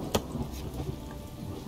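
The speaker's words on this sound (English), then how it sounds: "Just raining right through everything." Steady rain in the Castle Flipper building game, falling straight through an unfinished castle with walls but no roof, a continuous soft hiss with a brief louder burst near the start and no talking.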